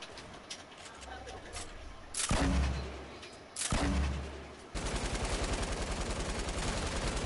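Two sharp, loud sniper rifle shots in Fortnite ring out a second or so apart, each with a booming tail, followed by rapid rhythmic game noise, with a player talking throughout.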